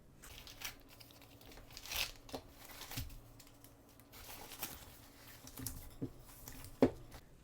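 Plastic packaging from a DJI Mic Mini unboxing crinkles and tears in quiet, close bursts, with soft scattered rustles and one sharper crackle near the end.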